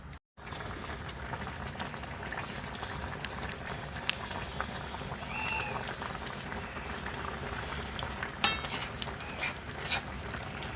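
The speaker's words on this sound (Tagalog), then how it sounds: "Pakuluin pa natin siya." Fish paksiw made with galunggong simmers in a pot, giving a steady, soft bubbling throughout with an occasional faint clink of utensils.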